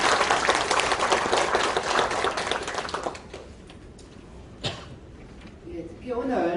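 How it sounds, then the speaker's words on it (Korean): Audience applause in a National Assembly seminar room in Seoul during a carbon-neutrality policy debate, a few seconds of brisk clapping that fades out, followed by quiet room noise and a voice beginning to speak. "박수 한번 부탁드립니다."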